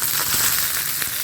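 Curry leaves, mustard seeds, chilli and garlic sizzle hard in hot oil for a tamarind rasam, a steady, dense crackling hiss with small pops, close and loud, with no talking.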